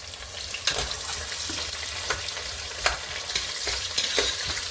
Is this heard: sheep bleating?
no